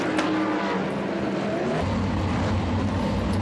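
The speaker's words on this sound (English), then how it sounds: "And here we go with Heat 3 racing action." Race cars roar around the oval at Skagit Speedway during a heat race, a loud, continuous engine drone with the pitch shifting as cars pass close by.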